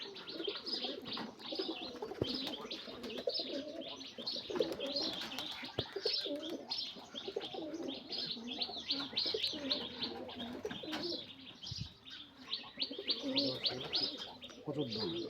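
Rajshahi giribaz and Pakistani pigeons coo and chirp continuously, a dense layered chorus of nearby birds, with someone speaking faintly at times.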